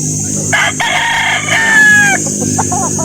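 SBR Boston roosters crow at a chicken market in Calauan, Laguna, loud and close, with one drawn-out crow and clucking around it over steady background noise.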